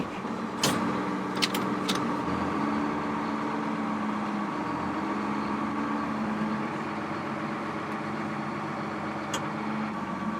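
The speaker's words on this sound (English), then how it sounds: "So I'm getting this tractor out." A tractor engine idles steadily inside a farm machinery shop, a low continuous rumble with a few sharp clanks early on and no talk over it.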